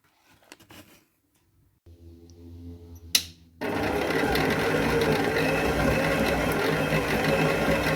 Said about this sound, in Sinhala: බටර් එක සොෆ්ට් වෙන්න තමයි අපි චුට්ටක් බීට් කරගත්තේ